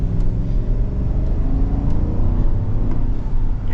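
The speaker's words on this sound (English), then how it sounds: "I just wanted to wait so we can get like another little acceleration here" A V8 full-size SUV, a 2025 Chevy Suburban or Ford Expedition, accelerates with a loud, steady engine drone and road roar heard from inside, the pitch rising gradually with a low rumble throughout.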